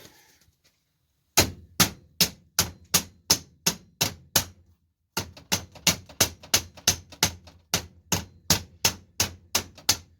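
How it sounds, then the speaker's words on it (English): Steady metallic hammer strikes ring out in two runs while installing a racing starter kit, the first about ten blows and the second a longer series, evenly spaced, sharp and close, with no talking. "Got to do a little hammering."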